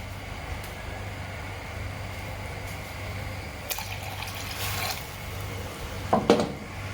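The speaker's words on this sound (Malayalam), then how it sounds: "അപ്പോൾ ഞാൻ ഇതിനകത്തോട്ട് കുറച്ച് വെള്ളം കൂടി ഒഴിക്കാം." Water is poured into a pot of spicy Kerala-style Kalanchi fish curry already cooking with tamarind and masala, a steady moderate trickling pour, followed near the end by a couple of brief clinks of utensils.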